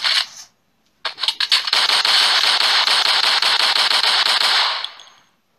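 Weapons fire in a Roblox rocket-launching game: a couple of sharp shots, a brief gap, then a long, loud, rapid-fire burst rattling steadily for several seconds before cutting off.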